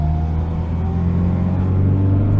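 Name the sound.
Austin Maestro car with A-series engine driving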